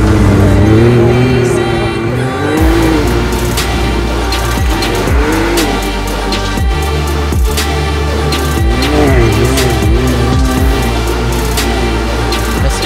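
A Can-Am X3 off-road vehicle tearing fast through a forest on a cross-country trip, its engine loud and close, revving and dropping repeatedly, with tire scrabble and skids throughout.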